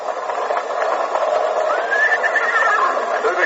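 A horse whinnies in an old Western radio drama, a thin, shrill call rising and wavering over a steady, band-limited broadcast hiss with faint hoofbeat-like rumble and no talk.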